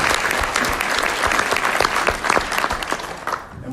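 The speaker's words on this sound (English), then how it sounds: "would you give her a round of applause?" An audience in a school board meeting room breaks into sustained applause, a dense steady patter of many hands clapping close by that carries on throughout and only begins to thin slightly near the end.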